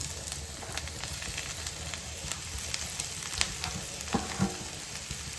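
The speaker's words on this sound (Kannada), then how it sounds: "ಇದನ್ನು ಕೂಡ ನಾವು ಒಗ್ಗರಣೆಯಲ್ಲಿ ಸ್ವಲ್ಪ ಫ್ರೈ ಮಾಡಬೇಕಾಗುತ್ತೆ" Mashed potato fries in a hot oil tempering with a steady, even sizzle, broken by a few sharp crackles and pops near the end.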